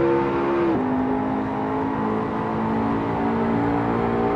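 Racing car engine in Assetto Corsa traffic mode, a Mercedes or McLaren, holding a steady loud drone that drops pitch sharply as it shifts up, then settles into an even sustained note, close and alone.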